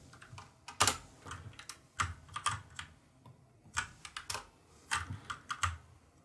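A computer keyboard clacks in uneven bursts of close, crisp keystrokes, with short pauses between the clusters. It is the only sound and stays fairly loud throughout, with no speech.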